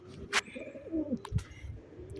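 Low, throaty pigeon cooing close by, a short rolling call, with a few clicks and light knocks around it in a quiet setting.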